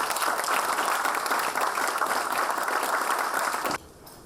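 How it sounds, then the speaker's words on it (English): At an orientation programme, an audience applauds to welcome a speaker, a loud, full burst of clapping that holds steady for several seconds and then cuts off abruptly. "Applause to welcome Mr. Brijesh Sahu as he imparts his wisdom."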